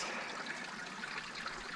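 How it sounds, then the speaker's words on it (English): Water trickling down a rock face at a trail water source in the Wildcats, a steady, soft, hissing dribble close by, continuous with no voices. "That's kind of neat how it's running down the trickle of the rock there."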